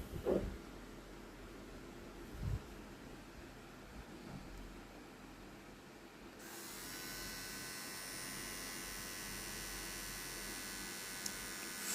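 Fade King single-speed hair trimmer switched on after a few faint handling knocks, giving a steady quiet electric buzz with a high whine that continues unchanged to the end.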